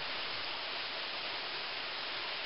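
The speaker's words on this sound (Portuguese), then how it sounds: "Aqui é a cascata da Ferradura, a parte de cima. Aqui é onde a água cai." Water falling at the top of the Ferradura waterfall (Cascata da Ferradura), a continuous dense rushing roar, steady and fairly close with no voices.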